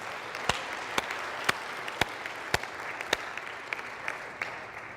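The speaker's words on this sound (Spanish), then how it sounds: "De un aplauso de ánimo" Steady applause from a crowd, a dense patter of clapping with a few sharper, louder claps standing out now and then.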